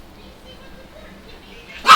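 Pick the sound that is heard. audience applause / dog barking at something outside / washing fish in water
dog barking at something outside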